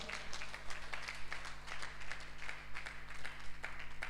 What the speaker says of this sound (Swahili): Piga makofi kwa Bwana.